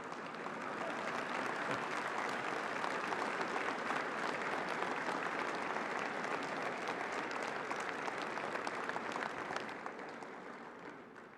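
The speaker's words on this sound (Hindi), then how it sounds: "इसमें तो ताली बजनी चाहिए ना भाई।" An audience applauds at a speech during the opening of the Bharat Tex textile event at Bharat Mandapam, a sustained burst of many hands clapping that stays dense and even before tapering slightly at the end.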